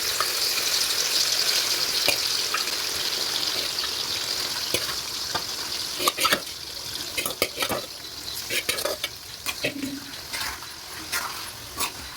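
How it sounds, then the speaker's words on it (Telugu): Chicken pieces, marinated with turmeric and salt, sizzle steadily in hot oil for a chicken and gongura chutney meal, with a constant hissing bed broken by scattered pops and spatters as the pieces shift. "ఇప్పుడు ఈ చికెన్ని ఆయిల్లో వేయించుకోవాలి"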